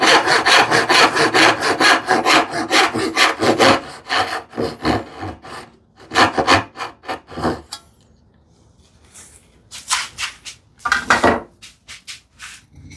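A hand saw cuts wooden dovetails in quick rhythmic back-and-forth rasping strokes, close up. Bursts of sawing are broken by short pauses before new runs of strokes, with no talking.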